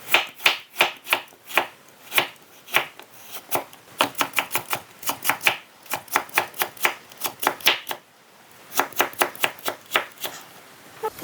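A knife julienning carrots into thin strips, heard as quick, close, crisp chops in steady rhythmic bursts with short pauses between runs and no talking.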